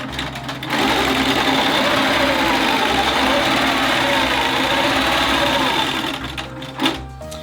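Longarm quilting machine stitching a T-shirt quilt: loud, steady rapid mechanical whirr for several seconds, then stopping, with a brief knock at the end.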